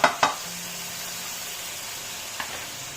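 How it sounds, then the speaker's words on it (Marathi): Green chili paste masala for crab curry sautés in oil with a quiet, even sizzle, opened by two sharp spoon clicks and a later light tap. "हे छान असं परतायचं हे बघा त्याला जरा असं तेल सुटायला पाहिजे वाटणाला"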